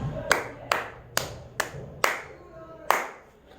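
Hands clap a short rhythm in a classroom rhythm game: six sharp, close claps spaced unevenly, with a longer gap before the last, and faint background sound between them.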